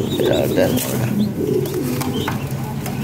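Lahori Sirazi pigeons cooing in a loft, soft repeated throaty coos and occasional chirps close by, with someone talking over them.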